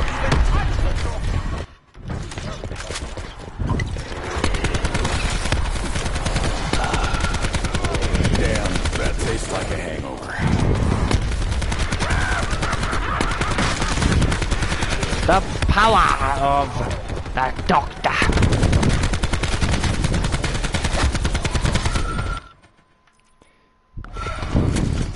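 Grenade launcher blasting zombies in Call of Duty Black Ops 4 Zombies, loud continuous bursts of rapid fire and impacts with brief pauses, nearly unbroken over a long stretch.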